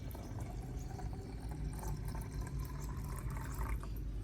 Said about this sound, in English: I use the remaining onion skin and turmeric solution to water the growing medium directly